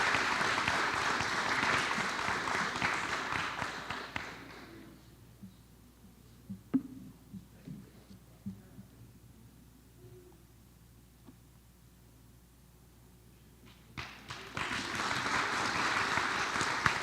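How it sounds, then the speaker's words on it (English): A round of audience applause for ninth grade students at an evening school recognition ceremony, loud at first, fading out to a quiet room with scattered sounds, then surging back into full clapping near the end. "Please give them another round of applause."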